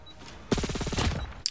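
An enemy machine gun in the Call of Duty video game rattles out one quick, evenly paced burst of close shots lasting under a second, with a sharp single report shortly after.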